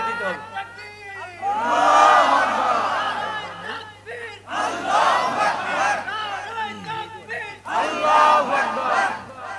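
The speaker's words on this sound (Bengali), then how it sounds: "একজন উঠে একটু তাকবীর দেন তো বীরের মতো দেখি কেউ আছেন এমন উঠে তাকবীর দিতে হবে" A large crowd at an Islamic gathering roars the takbir in three loud, surging bursts of massed voices with short pauses between, echoing in a big space.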